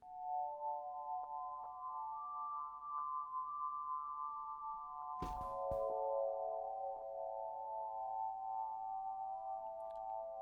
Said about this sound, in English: we'll use the harmonic series oscillator there, or wavetable, and then we'll modulate the waveframe with an LFO